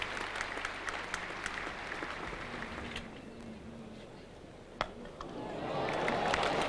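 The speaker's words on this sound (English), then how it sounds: "And applause for the 100 up for Australia." A large cricket crowd at Lord's applauds continuously during an England v Australia Test match, the clapping broad and a little distant, swelling slightly toward the end.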